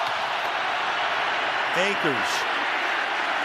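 Stadium crowd at an NFL divisional playoff game, Rams at Buccaneers, roaring steadily as a broad wash of noise under a commentator's voice, with a brief whistle-like rise near the middle.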